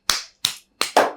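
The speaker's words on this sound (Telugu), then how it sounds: "క్లాప్స్ కొట్టండి అందరూ" A few sharp, separate hand claps at an interview, about four crisp slaps spaced unevenly and heard close up against silence, with no talking.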